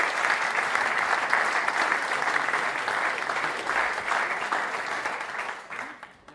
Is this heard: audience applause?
yes